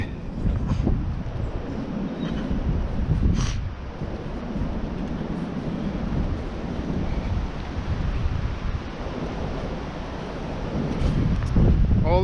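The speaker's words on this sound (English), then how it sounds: "It's quite windy today and very cold." Cold wind buffets the microphone with low rumbling gusts throughout while foraging wild leek near Duddingston Golf Club, Edinburgh, swelling louder at moments, with faint outdoor noise underneath.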